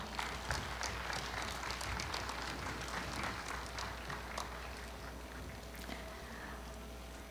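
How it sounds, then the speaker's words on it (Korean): Audience at a Korea University 111th anniversary ceremony applauds as a family steps onto the stage, a steady wash of many hands clapping, fairly distant and soft, sustained for several seconds without talk. "박수로 환영해 주시기 바랍니다."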